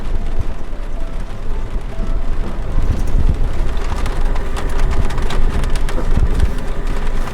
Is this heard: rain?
yes